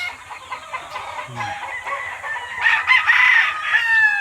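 A Bruce Barnett cross gamefowl rooster crows at a game farm, a drawn-out cock-a-doodle-doo rising near the end, with soft clucks and other fowl murmuring in the background at moderate distance.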